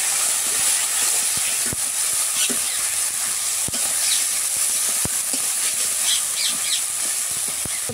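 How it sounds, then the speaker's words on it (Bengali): Ginger and cumin paste frying in a pan, a continuous loud sizzle and hiss with occasional sharp pops and spatula scrapes as it is stirred, steady throughout and with no talking. "আদা জিরে বাটা দিয়ে দিয়েছি, এখন ভালো করে কষিয়ে নেব।"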